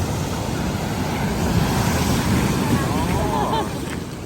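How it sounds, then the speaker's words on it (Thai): Strong ocean waves roll in at Cha-am beach in Phetchaburi, Thailand, a continuous broad roar of surf mixed with wind buffeting the microphone, with faint voices underneath. "วันนี้แบบคลื่นแรงมากนะครับ"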